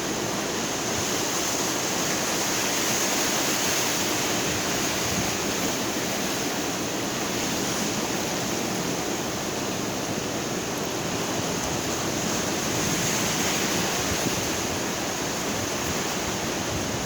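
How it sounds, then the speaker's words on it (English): Ocean surf at Ladder Beach on Saipan at sunrise makes a constant, dense roar of breaking waves, steady and fairly loud throughout, with no talking. "Going on here, got the waves."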